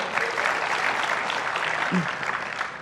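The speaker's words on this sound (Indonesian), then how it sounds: "boleh tepuk tangan dulu buat Bapak dua ini" Steady applause from a crowd, a dense patter of clapping that continues throughout, with a voice briefly audible beneath it.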